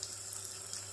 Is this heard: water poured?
yes